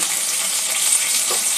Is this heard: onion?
yes